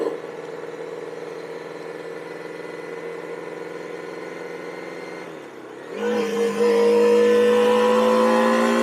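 A Honda CB 400 II motorcycle engine holds a steady drone, dips briefly, then revs up sharply and runs louder and higher as the bike accelerates, close and unaccompanied by talk.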